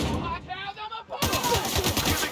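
Gunfire in the video game The Outer Worlds: a quiet lead-in gives way to a loud, dense burst of rapid shots that continues to the end.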